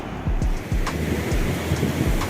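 Sea waves roar onto the shore at Puri in a steady, loud wash of surf, with gusty wind buffeting the microphone and low rumbling thumps throughout.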